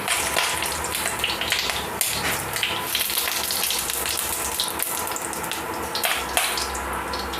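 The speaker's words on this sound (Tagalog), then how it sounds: "Lalagay na tayo ng tubig." Tap water gushes steadily into a cooking pot for homemade Korean ramen, a loud, continuous splashing rush close by with no talk.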